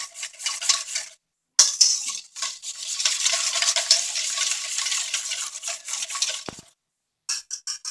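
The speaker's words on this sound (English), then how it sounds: "So make sure just to stir this, and this is almost done until we put it into our ramekins." Crème brûlée custard mixture is stirred in a pan with a utensil, steady scraping swishes close up, broken by brief pauses and a single knock near the end.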